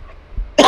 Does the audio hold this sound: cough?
yes